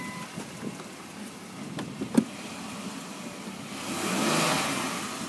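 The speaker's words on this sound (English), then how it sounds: "I'll let you listen to the engine." A 2004 Ford Explorer XLS with some rust and minor body damage idles with a faint, low engine hum, a few light clicks and a sharp tap, then the engine swells briefly as it revs up before settling.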